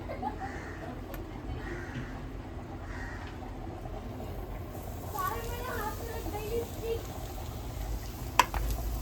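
Coated black pomfret pieces fry in hot oil, giving a steady, moderately loud sizzle and bubbling crackle across the whole stretch, with a brief sharp clink near the end.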